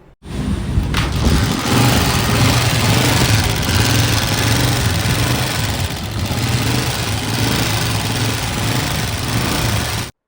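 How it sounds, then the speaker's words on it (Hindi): A Honda CG125 motorcycle engine with a noise problem runs steadily at a constant idle, a loud, close, continuous mechanical chug that starts abruptly and lasts about ten seconds. "पहले आप बाइक का साउंड सुन लें।"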